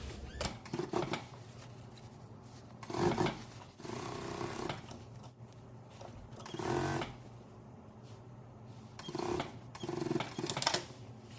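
A sewing machine stitches a shirt collar in several separate bursts of rapid mechanical whirring, each a second or so long, with quiet pauses and handling noises between them.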